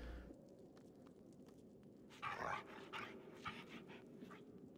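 A puppy in Divinity: Original Sin 2 gives soft whimpering, panting sounds over a steady low game ambience, with a slightly louder burst partway through.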